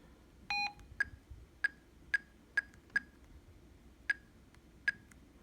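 A short electronic tone followed by a series of crisp, evenly spaced keypad beeps, about eight, from a Motorola Saber two-way radio, sounding close against a quiet hum.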